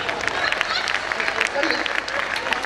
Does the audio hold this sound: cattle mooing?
no